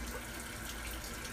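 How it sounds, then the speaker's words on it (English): Tap water runs steadily into a basin to soak a shaving brush. The rush is continuous and fairly close, with no talk over it. "I'm gonna put this in the water."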